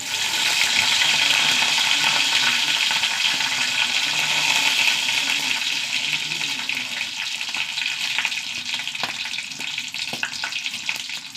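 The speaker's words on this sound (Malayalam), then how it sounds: "വെളിച്ചെണ്ണ ചൂടാവട്ടെ. കടുക് ഇട്ട് കൊടുക്കാം." Mustard seeds and dried red chilies hit hot coconut oil, giving a loud, steady frying hiss with scattered crackles and pops that ease slightly toward the end, with no talking over it.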